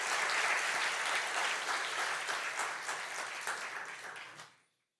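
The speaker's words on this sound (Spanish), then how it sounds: "Dele un aplauso fuerte al Señor." Church congregation clapping together in strong, sustained applause for several seconds before it quickly dies away.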